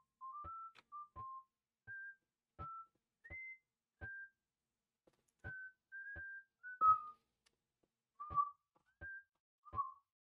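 A person whistles a simple tune alone in a quiet room, short clear pitched notes in a loose rhythm with brief gaps, moderately faint and close, a few slightly warbled notes near the end.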